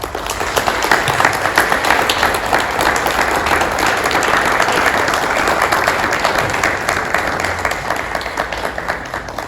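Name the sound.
audience applause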